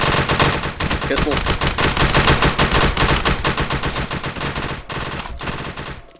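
Rapid gunfire in the Roblox game SCP Task Force, a loud, dense burst of shots that runs almost without a break for several seconds before it stops abruptly.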